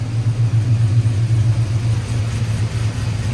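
A cammed 450hp V8 truck engine idles after a header gasket replacement, a loud, close, steady low rumble with a lumpy, pulsing rhythm throughout.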